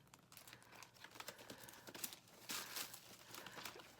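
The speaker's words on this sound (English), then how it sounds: "Let me get a piece of foam tape here." Foam tape being peeled from its backing during card-making, a soft, close crinkling and tearing rustle with small irregular crackles, faint and without talk.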